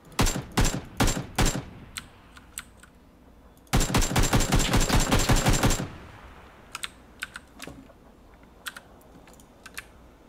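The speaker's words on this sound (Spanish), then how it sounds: "Me están disparando, Viner." Rapid bursts of automatic gunfire in PUBG during a Latin tournament match, shots aimed at the player, come in two loud volleys with scattered single cracks afterward and no talk over them.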